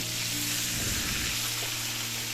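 River fish frying in hot oil in a pan, a continuous dense sizzle, close and steady, with a brief stirring swell in the middle and no talking.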